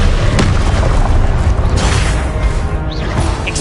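A loud Confringo blast spell exploding in the video game Hogwarts Legacy: a heavy booming burst that fills the whole moment and rumbles on with crackling debris.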